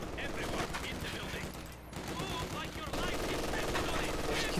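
Gunfire crackles in a 4v4 Company of Heroes 2 battle on the Vielsalm map, dense machine-gun bursts and rifle volleys layered into a continuous fusillade, with game voices talking over it.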